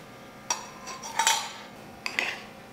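Whisked curd goes into cooked rice for a cold curd rice dish, with a few close scraping clinks of a spoon against a metal vessel as it is stirred.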